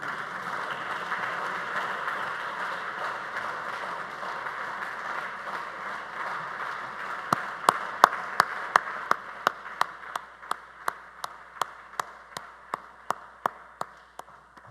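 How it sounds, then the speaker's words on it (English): Audience applause at a building dedication and honouring ceremony, a dense steady wash of many hands clapping in a hall that thins out toward the end into a few distinct, evenly spaced single claps. "Ladies and gentlemen, please join me in applauding this historic moment."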